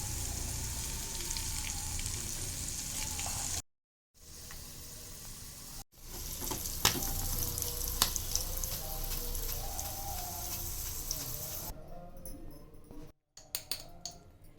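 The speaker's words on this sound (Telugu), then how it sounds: "కొంచెం కొంచెంగా వేసుకొని వేపుకుందాం" Sweet corn kernels, parboiled, frying a little at a time in hot oil on a medium flame for crispy corn, giving a steady close crackling sizzle broken by a few brief gaps, with no talking.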